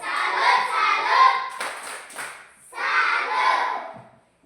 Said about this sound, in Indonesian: Sekarang kita tepuk salut untuk kelompok 1.